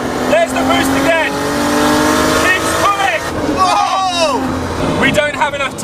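A Nissan Skyline R32 GTST with a 2.3-litre Tomei stroker engine making about 400 bhp pulls hard under boost, its engine droning steadily from inside the car while people talk excitedly over it.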